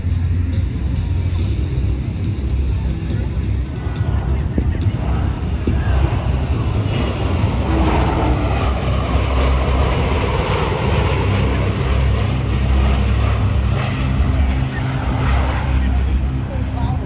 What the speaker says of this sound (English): This pass demonstrates the extremely powerful engines of this magnificent jet